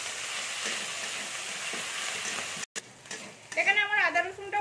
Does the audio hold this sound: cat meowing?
no